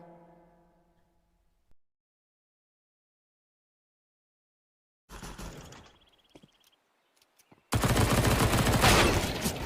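Gunfire rings out in a video game, with a burst of shots after a stretch of silence and then a loud, sustained volley near the end.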